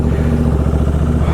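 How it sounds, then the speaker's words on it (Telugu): A Royal Enfield GT650 motorcycle engine runs after a morning cold start, giving a loud, steady, close-up low rumble with even mechanical pulsing throughout. "మార్నింగ్ కోల్డ్ స్టార్ట్ చేస్తాను."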